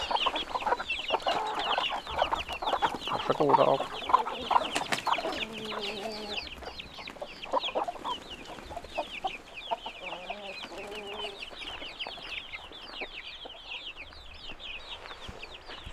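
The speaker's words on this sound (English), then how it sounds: "we decided to let the chickens out" Several chickens cluck and chatter continuously nearby after being let out in northern Sweden, with a brief spoken word early on amid the flock.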